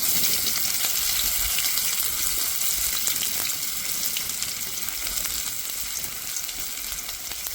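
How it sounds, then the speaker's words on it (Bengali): Chopped onion for a kachori filling frying in oil with panch phoron, giving a steady, dense sizzle that holds at an even level throughout with no voices. "পেঁয়াজটা একটু ভালো করে ভেজে নেব।"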